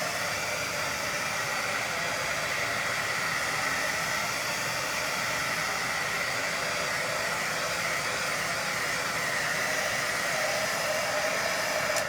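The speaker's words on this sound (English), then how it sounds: "unless I keep the heat gun on it till it's completely dry" A heat gun blows a constant, loud, even hiss of hot air while drying a freshly painted sign, unchanging for the whole stretch with no talking.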